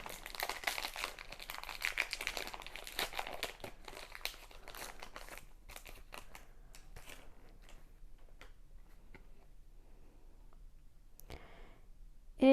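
A Pokémon card booster pack is torn open, with dense crinkling foil and crumpling wrapper noises at first, then sparser clicks and rustles as the cards are handled, ending in a brief louder knock.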